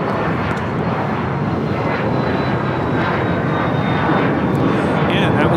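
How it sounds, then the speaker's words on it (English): NetJets Cessna Citation Latitude business jet taking off from LAX, a loud, continuous engine roar with a thin high whistle, while people talk over it. "that was NetJet 665 Cessna Citation Latitude taking off to Van Nuys"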